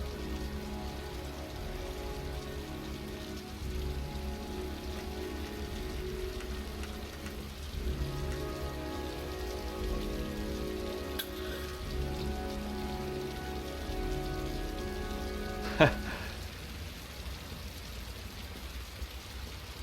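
Steady, dense rain falls throughout in the Heavy Rain PC demo, a continuous broadband patter on surfaces with a low rumble beneath, broken once near the end by a brief sharp knock.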